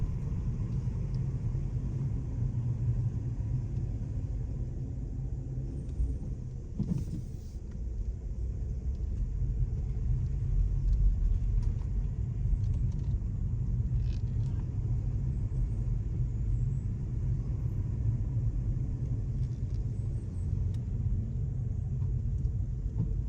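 A car crawls slowly along a narrow two-way country lane in Guernsey, its engine a steady low rumble from inside the cabin, continuous and unvarying throughout with no talk.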